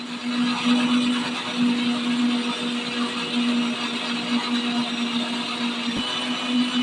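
A kitchen mixer grinder spins butter into ghee with a steady, loud whirring drone, the motor running continuously at an even pitch with a brief knock near the end.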